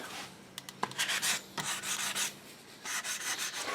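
Sandpaper rubs over the wooden stock of an HW30 air rifle in short irregular strokes, a soft close scratchy rasp with small taps between passes.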